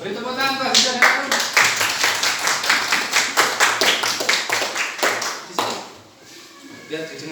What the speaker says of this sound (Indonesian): Beri tepuk tangan Pak Aziza dan Arum.